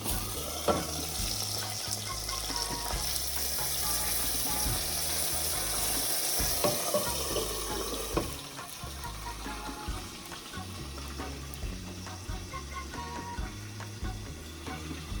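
A flame torch roars with a steady, hissing rush as it melts cheese on a burger, loud and continuous, easing off partway through amid faint kitchen clatter.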